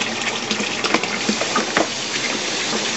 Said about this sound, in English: Here's the pump operating.